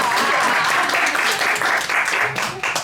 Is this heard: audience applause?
yes